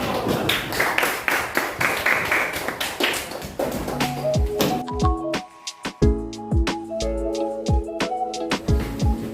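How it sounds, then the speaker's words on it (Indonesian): A classroom of students claps for group 4, a burst of taps and claps that thins out into a few scattered hand claps with light sounds in the room behind. "tepuk tangan dong untuk kelompok 4"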